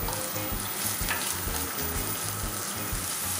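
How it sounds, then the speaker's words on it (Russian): Steady sizzling of onion and garlic frying in a hot pan, a dense continuous crackle with faint stirring scrapes and no voices. "Лук с чесночком нужно нарезать и обжарить."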